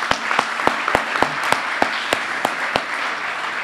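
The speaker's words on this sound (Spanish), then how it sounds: "Un aplauso para él." A few people clap in a sparse, slightly uneven rhythm after a talk on biodiversity and ancestral knowledge of Latin America ahead of COP16; the sharp individual claps sound close and stand alone over faint room noise.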